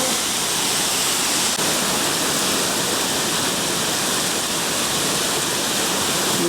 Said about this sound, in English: We are at the Merriman Waterfall.